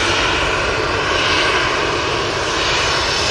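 A Ryanair airliner arriving at Manchester Airport, its engines giving a loud, steady roar that holds throughout without letting up.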